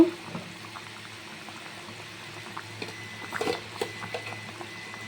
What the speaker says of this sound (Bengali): এই এখন আমি মাছগুলো ছেড়ে দেব।